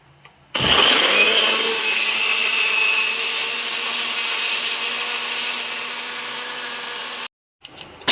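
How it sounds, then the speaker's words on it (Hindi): A kitchen mixer grinder runs loud and steady, grinding tomato chutney with a harsh whirring roar for about seven seconds before it abruptly stops. "तो हम पीस लेते हैं चटनी और इन्हें दे देते हैं पीस के।"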